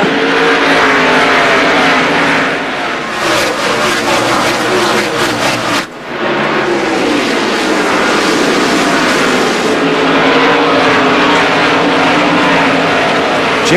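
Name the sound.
NASCAR stock cars racing at Richmond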